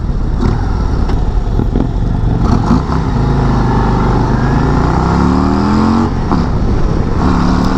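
A 2024 Harley-Davidson CVO Road Glide ST motorcycle accelerates hard on a race track, its loud engine note rising steadily through the gears with rushing wind, close and continuous with no talk.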